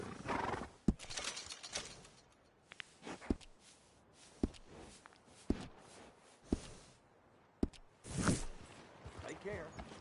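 A horse in the Red Dead Redemption 2 video game snorts and whinnies while hooves clop and shift in irregular sharp hits, with background game ambience.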